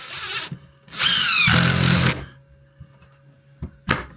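A power drill whirs briefly and then bogs down as it drives a screw into wood without a pilot hole, followed by a few soft knocks and clicks.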